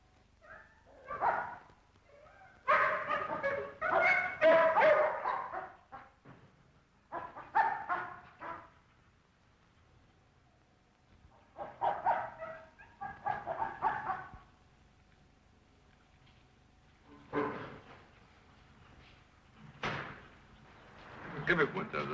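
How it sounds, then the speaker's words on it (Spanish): Dogs bark in scattered bursts at moderate distance, with stretches of quiet between the volleys and a few yips mixed in. "Costó que ladrasen los perros."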